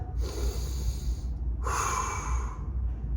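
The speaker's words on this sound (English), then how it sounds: "Sit on your feet flat, take a deep breath" A person takes deep breaths during a breathing exercise, with two long, close breaths, the second one stronger, and nobody speaking.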